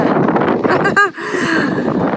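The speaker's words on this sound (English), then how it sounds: "it's a bit windy today" Wind buffets a microphone outdoors beside a boat being given a copper coat antifouling treatment, a steady loud rumbling rush with a brief gust-like swell partway through.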